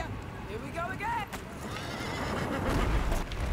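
A horse whinnies clearly in the video game A Plague Tale Requiem, a bright rising neigh near the start, followed by hoof and movement noise with a voice talking over it.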